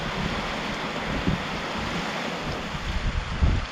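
A steady roar of strong wind from Typhoon Opong buffets the microphone, loud and continuous with a few heavier gusts thumping near the end.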